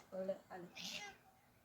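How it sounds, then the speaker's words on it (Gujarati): A new kitten or house cat gives a couple of faint, short meows close by in a quiet home, one after another within about a second. "મારા મલકના મીંદડા છે ને આ એક નવું આવ્યું"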